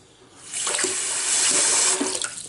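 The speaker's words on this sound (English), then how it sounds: "Well, when water comes out where it's supposed to" Water gushes from a newly fitted tap in a domestic plumbing job, a steady close hiss that swells in over half a second and holds loud with slight splashing, no talk over it.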